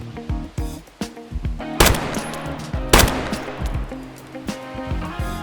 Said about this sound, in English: you just gotta shoot him in the head again with Warmageddon to do a ton of damage.